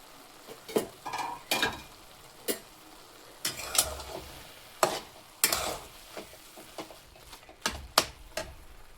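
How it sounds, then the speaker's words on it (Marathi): Grated carrots cooking in a pan for Indian gajar halwa, with soft sizzling and repeated scraping stirs of a spoon against the pan, close and fairly quiet, no talking. "अजून 1-2 मिनिटं आपण गाजर शिजून देऊयात।"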